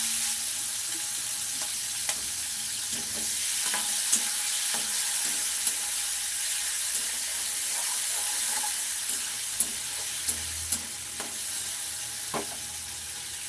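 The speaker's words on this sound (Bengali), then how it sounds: "তেল গরম হয়ে গেছে এখানে এই যে চিংড়ি মাছটা নুন হলুদ মাখিয়ে নিয়েছি প্রথমে এখানে দিয়ে দিচ্ছি" Shrimp marinated in salt and turmeric frying in hot oil, giving a steady, even sizzle throughout with small crackles and occasional soft pops, close by and with no talking.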